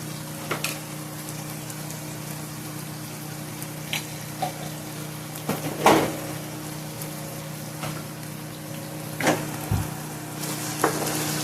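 Garlic and onions frying in a pan, a steady soft sizzle with a background hum, broken by occasional clicks and knocks from stirring, fairly close and with no talking.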